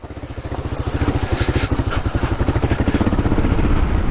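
A Kawasaki KLR motorcycle being ridden home from the trails, its single-cylinder engine thumping in a fast, even pulse that builds slightly in loudness as it pulls along, close and loud.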